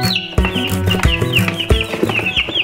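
Barred Rock chickens clucking close by as they are moved into a transport crate, a busy overlapping run of loud clucks and squawks with no talk over them.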